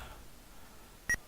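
A single short electronic beep sounds from a ZX Spectrum game's telephone dialing, standing out clearly against near-silence at the very end.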